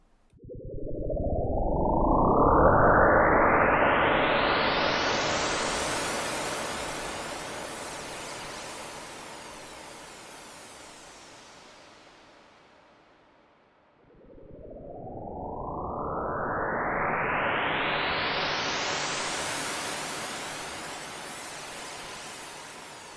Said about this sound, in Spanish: Y listo, ahí tenemos un efecto de sonido.